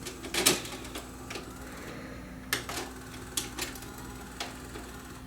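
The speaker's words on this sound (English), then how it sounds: "Hit the power button again, you'll probably hear the tape unload." A Panasonic PV4361 VCR with a fault that makes it shut down unloads its tape, giving faint mechanical clicks and whirring ticks spread over several seconds above a low steady hum, quiet and close.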